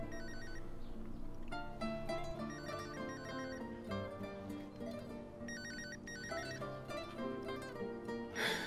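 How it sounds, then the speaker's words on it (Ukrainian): A telephone rings repeatedly in steady bursts of a bright electronic ringtone melody, loud and close, with no voices. "Тобі хтось дзвонить."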